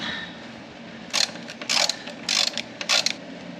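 A ratchet clicks in several short bursts while tightening the firewall ground connection on a car, close and crisp over a quiet background.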